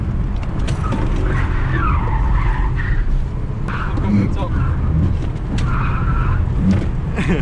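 A Skoda Kamiq front-wheel-drive SUV pulling away hard with its traction control switched off, engine roaring loud and close with tyre noise over the road, while people talk in the cabin throughout.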